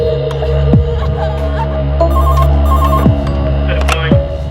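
A telephone rings in repeated electronic trills over a constant low hum, several rings in a row.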